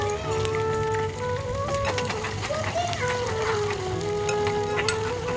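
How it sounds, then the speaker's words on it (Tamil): Mustard seeds and chana dal frying in hot oil give a steady crackling sizzle throughout, with a voice and background speech over it. "எண்ணெய் கடுகு கடலைப்பருப்பு இதெல்லாம் போட்டு நல்லா வந்து வறுத்துடலாம்"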